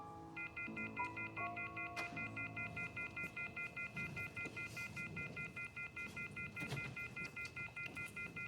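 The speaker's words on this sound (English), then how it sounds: "It sounds like a telephone is off the hook." Telephone off the hook, giving a continuous steady electronic tone after a few brief beeps, held at low level for about eight seconds with no talking.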